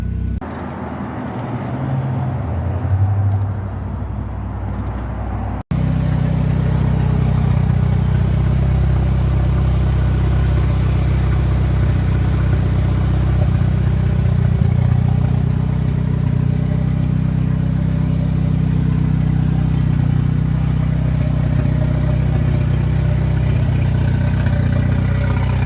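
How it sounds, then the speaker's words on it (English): A warmed-up car engine idles smoothly and steadily at operating temperature, a loud continuous rumble that holds an even pitch throughout after a brief quieter opening. "oil pressure is good, idle is perfect and steady, vacuum is perfect and steady"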